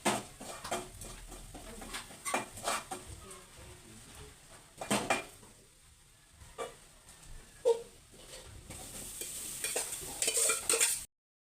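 Garlic, ginger, shallots and chilli sautéing in oil in a pan: a soft continuous sizzle broken by sharp clinks and scrapes of a spoon stirring against the vessel, close by, with no talking.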